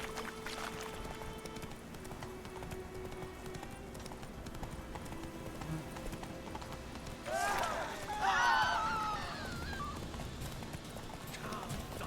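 Hoofbeats of a horse galloping in The Witcher 3 video game, steady clip-clop under game music and ambience, with a brief louder flurry of effects near the end and someone talking.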